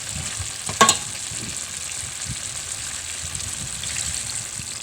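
Pork afritada is stirred as it fries in a pan, giving a steady sizzle with a sharp utensil scrape near the start and soft stirring clatter throughout.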